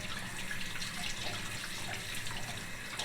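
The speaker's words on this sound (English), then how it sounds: "And I'll just keep pushing that water through that filter." Water being pushed steadily through a LaPierre Siro maple syrup filter bag, a continuous close splashing and trickling wash like a running tap, with no talk.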